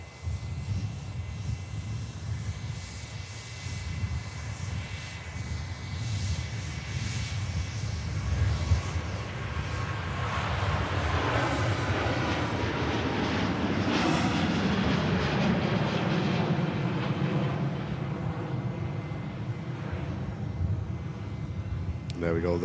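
Virgin Atlantic Airbus A350 departing on the runway at Manchester Airport, a broad engine roar that builds and swells over the clip and stays loud and sustained as the jet passes.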